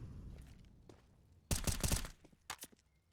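A short burst of rapid gunfire in a Counter-Strike match on the Inferno map, crackling loud and close for about half a second, followed by a couple of quieter scattered shots and faint thuds.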